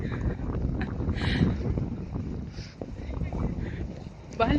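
Gusty wind rumbles against the microphone in uneven surges throughout, heard under a voice talking.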